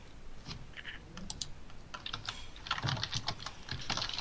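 Keys on a computer keyboard are tapped in quick, irregular bursts at close range with no voices over them.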